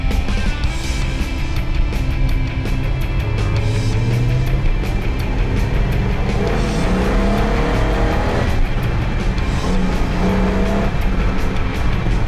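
A Dodge Super Bee with a 440 Six Pack V8, converted from four-speed to automatic, drives on an open road, its engine a loud, steady rumble with rising and falling revs and continuous road and wind noise throughout.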